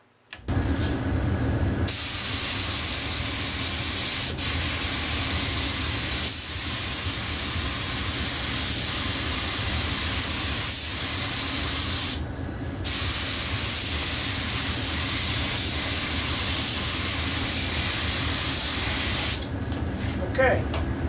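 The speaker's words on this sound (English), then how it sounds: "I'm going to spray a test piece first to make sure everything's right before I start spraying." A spray gun lays primer onto a wood test piece in a workshop, a loud, steady hiss that runs in long passes broken by two brief pauses.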